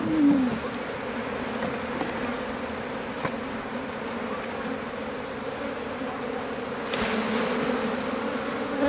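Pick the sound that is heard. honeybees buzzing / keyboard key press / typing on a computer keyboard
honeybees buzzing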